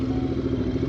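Royal Enfield Interceptor 650 fitted with an SS Moto Corp full system exhaust, a deep rumbling idle with a steady throbbing beat, close and loud throughout.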